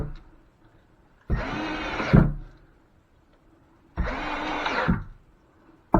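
A power drill runs in two bursts of about a second each with a pause between, driving screws into drywall while patching a wall after a leaking pipe; the motor whines steadily and the tip slips at the end of each run.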